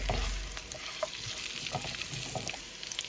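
Onions frying with mutton in a pan, a soft continuous sizzle with occasional light stirring scrapes, steady and fairly quiet throughout, no voices.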